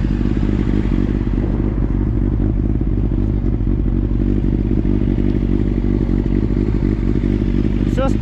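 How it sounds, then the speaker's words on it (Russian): A motorcycle engine running close and loud with a steady, rough idle and a mechanical clatter throughout, with no clear throttle blips standing out. "Газанешь, только быстро. Надо газанул и отпустил."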